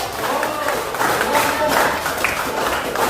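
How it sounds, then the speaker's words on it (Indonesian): Students in a classroom clap for all the discussion groups, a loose crowd of hands with some murmuring voices mixed in, moderately loud and uneven. "Oke, tepuk tangan untuk semua kelompok."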